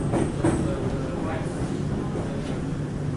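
Interior of an HCMT commuter train pulling out of Dandenong station, a low rolling rumble with faint wheel clicks and hum, while a voice talks over it intermittently.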